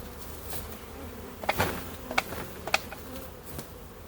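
Honey bee swarm buzzing in a steady low hum, broken by a few brief knocks and clatters, close by and fairly quiet.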